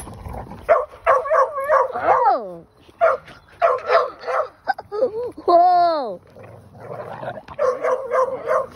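Several dogs bark, yip and whimper excitedly in quick bursts, close by, while a person exclaims loudly between the barks.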